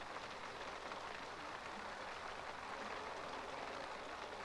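Steady rain pattering in The Sims 3, a soft continuous hiss of drops on surfaces that stays even and faint throughout with no other sounds over it.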